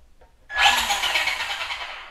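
A Traxxas RC car's electric motor whirs up sharply when the throttle is pulled and keeps running steadily close by, with a high buzzing whine and no talking.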